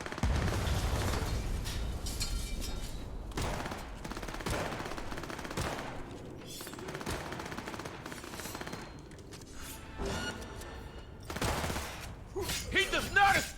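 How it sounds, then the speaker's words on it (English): Automatic weapons fire in the video game Cyberpunk 2077: repeated rapid bursts and single booming shots, some distant and some loud and close, with speech mixed in. "I hear the sound of automatic weapons"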